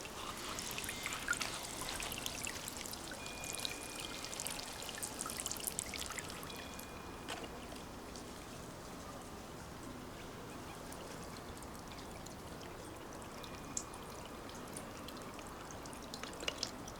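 Water from a small solar-powered fountain pours and trickles into a bucket, a constant close splashing wash with a few faint bird calls in the background.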